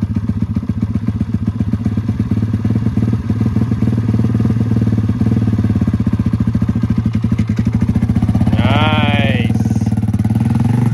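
Honda ATC 70 three-wheeler's small engine running steadily nearby with a fast, even putter and clatter throughout, briefly joined by a rising squeal toward the end.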